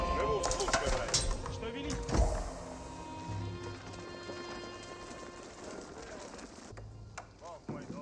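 Horse hooves clip-clop in Age of Empires 4, a steady trotting patter under ongoing talk and game effects.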